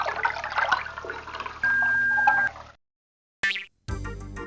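Water poured at a cave entrance in an animated scene, a steady splashing pour running under loud cartoon sound and music, then cutting out before brief separate noises follow.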